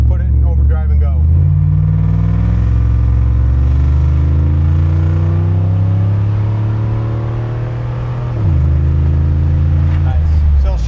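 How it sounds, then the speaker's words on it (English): A 1987 Camaro IROC Z28 pulls steadily in overdrive, its engine drone climbing in pitch with a brief dip near the end as it shifts, then picking up again, loud and close throughout. "now we're just going to put it in overdrive and go"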